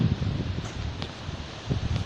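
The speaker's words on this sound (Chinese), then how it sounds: "海风很大" Strong sea wind blows across a rocky coastal scenic area, buffeting the microphone with a gusty, rustling rush and low rumbles that swell and ease, with no talking.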